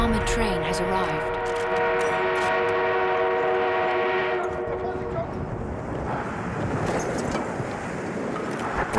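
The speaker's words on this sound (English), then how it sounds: "Enemy armored train has arrived." An enemy armored train arrives in the video game Battlefield 1, sounding a long loud steam whistle over rumbling rail noise, after which a dense clattering roar of battle and machinery takes over.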